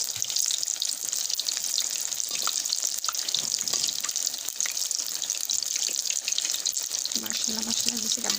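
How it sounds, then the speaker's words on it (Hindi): Cabbage pakoras deep frying in hot oil, a steady dense sizzle running throughout at moderate loudness, with brief clinks of stirring and a few low tonal sounds near the end. "अब हम सारे फ्राई करके फिर आपको डिश आउट करके दिखाएंगे"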